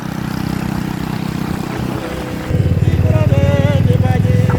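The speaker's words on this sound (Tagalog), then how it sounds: "motor po na may kargang kambing sa gilid" A motorcycle carrying a goat on its side drones, then grows louder and rougher as it comes close, revving with a pulsing rattle, on the road to a rural livestock market in Negros Oriental, Philippines.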